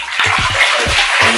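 Water is poured and splashed over a long-haired cat in a bathtub during a home wash with DIY cat shampoo, a steady close rush of water.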